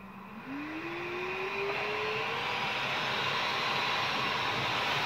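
Electric ducted fan in a Mini R50, fitted as a forced cold air feed, whining loudly up to half power: a rising tone settles into a steady, close, rushing roar.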